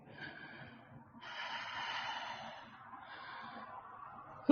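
A voice imitates low, slow breathing coming from a cellar tunnel: three drawn-out, breathy rasps, quiet and close, ending in a short sharp click.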